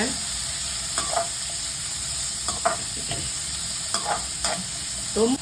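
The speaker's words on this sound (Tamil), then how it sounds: "நான் இன்றைக்கி 3 வெங்காயத்தை சாப் பண்ணி வச்சுருக்கேன். அதை இது கூட சேர்த்துக்கிறேன். சேர்த்துட்டு வதக்கி விட்டுக்கோங்க." Three chopped onions stirred and sautéing in a pan for a Tamil-style malai chicken, with a steady close sizzle broken by repeated scraping stirs and no talk.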